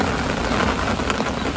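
Warm, mild rain falling steadily, a dense close patter on surfaces with no gaps, alone without voices.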